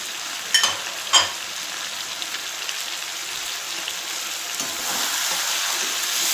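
Ground spice paste fries in a pan with duck meat, making a soft, even sizzle. Two sharp clacks of stirring sound near the start, and the hiss swells a little toward the end. No voices.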